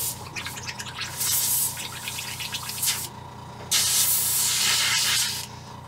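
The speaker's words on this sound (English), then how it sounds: "Got our airbrush all cleaned up again" Airbrush spraying paint onto crappie jigs in short hissing bursts that start and stop in an uneven rhythm over a quiet low hum, close and clear, with no voices.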